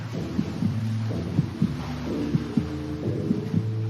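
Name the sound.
heartbeat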